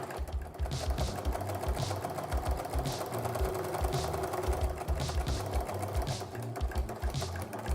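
Sewing machine stitching strips of a double-sided quilt-as-you-go placemat through fabric, batting and backing, running steadily and closely for the whole stretch with a busy, rhythmic mechanical chatter.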